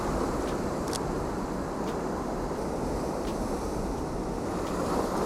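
Rough ocean surf pounding a beach during an outdoor shoot, a continuous loud roar of breaking waves mixed with wind buffeting the microphone, with no voices over it.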